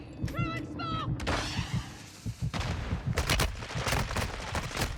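Rapid gunfire in Warzone 2 comes in loud, dense bursts of cracks and thumps over constant game noise, with a brief synthetic chirp early on and a louder volley near the end.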